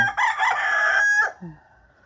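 A rooster crows once, loud and close, in a long strained call that breaks off, followed by a brief low cluck in a quiet rural setting.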